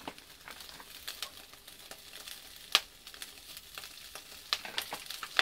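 Bacon bits fry in oil in a pan, giving a steady soft sizzle with scattered sharp pops and crackles, and no voices.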